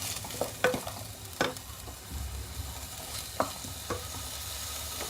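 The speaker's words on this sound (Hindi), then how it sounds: "इसको थोड़ा सा अच्छे से इस तरह से भूनिए, ताकि पूरा मसाला इसमें मिक्स हो जाए।" Mutton liver stir-frying in masala in a pan with a soft steady sizzle, broken by a few sharp scrapes and clacks of a spoon stirring, close and fairly quiet.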